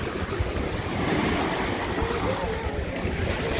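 Wind and waves at a clear-water beach in Turkey, a loud continuous wash of surf and gusting wind noise on the microphone filling the whole stretch.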